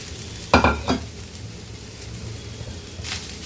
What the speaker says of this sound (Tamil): சேர்த்து இதையும் நல்லா நல்லா வதக்கிடுங்க வெங்காயத்தோடு சேர்த்து